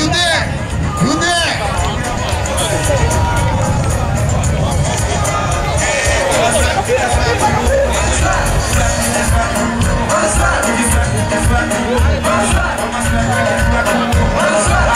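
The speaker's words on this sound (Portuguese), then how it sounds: "Ok, aplauso para o Fulém!" A lively crowd roars and cheers at a public event, loud and continuous, with shouts and babbling voices mixed throughout.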